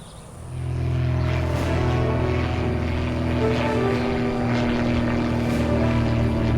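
Propeller airplane droning overhead outdoors at a summer party, a steady loud engine hum that rises in the first second and holds throughout.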